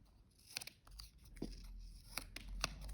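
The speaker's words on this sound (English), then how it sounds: "I'm going to cut 2 more circles. So I'm going to cut those corners." Scissors snip corners off white paper circles in several faint, crisp cuts spaced irregularly, quiet and close with a soft background hum.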